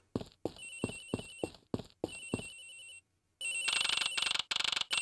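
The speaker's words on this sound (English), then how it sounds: "Sounds like the phone is up in the flight attendant's room." A telephone rings in the Ace Attorney Investigations video game: quick bursts of a bright electronic trill, then a brief pause and a longer, louder stretch of continuous ringing, with nothing else heard.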